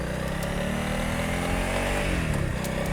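A Honda CRF300L motorcycle rides steadily in city use, its engine droning continuously at a mid pitch with a slight pitch dip and recovery near the end, close and loud with no talk.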